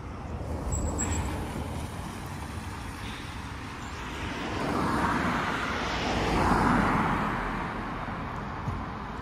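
Traffic on a busy main road, a continuous broad roadway rumble that swells twice as vehicles pass nearby, with a faint high whine early on.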